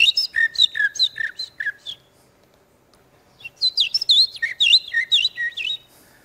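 A person whistles an imitation of a European pied flycatcher's song in two bursts of quick, high, sing-song notes separated by a pause.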